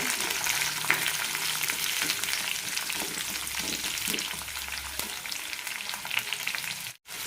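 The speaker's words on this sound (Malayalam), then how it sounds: "ചെറിയുള്ളിൽ നന്നായി വെന്ത് ട്രാൻസ്പെറൻ്റ് ആവണം" Small shallots fry in a pan with curry leaves, giving a dense, constant crackling sizzle close by, with occasional stirring and a brief dropout near the end.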